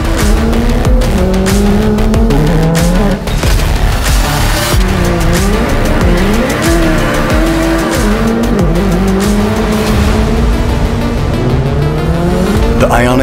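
The Hyundai RN24, a small electric race car with the IONIQ 5N powertrain, drives hard with tires squealing and skidding in repeated swooping screeches over a loud whine and road rumble, with voices heard partway through.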